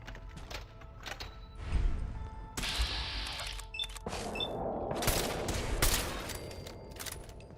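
Gunfire from the video game Fallout comes in rapid bursts and single cracks, layered over game effects and clattering sounds, fairly close and dense throughout, with no speech.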